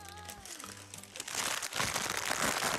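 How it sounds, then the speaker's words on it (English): A vinyl food package crinkles and crunches close up, with a faint tone early on, then the rustling grows louder and steady. "this is the sound of the package it's in"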